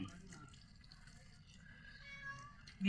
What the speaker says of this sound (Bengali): এই ম্যাও এসেছে